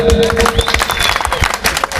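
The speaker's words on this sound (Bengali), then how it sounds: "ঝিনুকের জন্য একটা হাততালি দেন।" An audience at a Bangladeshi folk band stage show breaks into applause for a performer named Jhinuk, with dense scattered clapping and crowd noise throughout, and voices mixed in.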